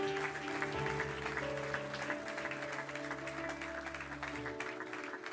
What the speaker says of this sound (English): Dan un fuerte aplauso, Señor.